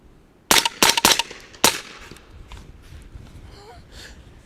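Four sharp, close cracks from a suppressed Cox Arms AR rifle firing subsonic .300 Blackout rounds, three in quick succession and a fourth a beat later, followed by faint outdoor ambience and distant thumps.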